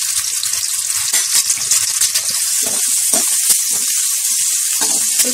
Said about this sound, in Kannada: ಸ್ವಲ್ಪ ಆನಿಯನ್ ಒಂದು 1/4 ನಿಮಿಷ ಫ್ರೈಯಾದ ತಕ್ಷಣ ಕ್ಯಾರೆಟ್ ಹಾಕೋಣ